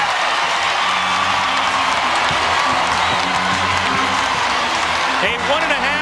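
Crowd at the 2014 WNBA All-Star game in Phoenix cheering and applauding steadily in a large arena, with a sustained roar of voices and clapping over distant talk and squeaking sneakers.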